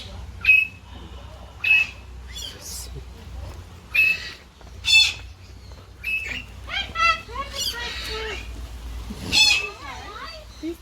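Birds squawking and chirping at a bird sanctuary, repeated sharp shrill calls at irregular intervals, mixed with people and children talking nearby.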